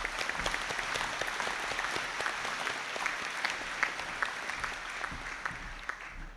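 Steady, dense applause from a graduation audience at a degree conferring ceremony, heard from a distance and sustained throughout without talk.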